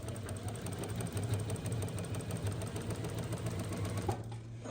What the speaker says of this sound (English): you're going to go ahead and just sew down, and we're creating a channel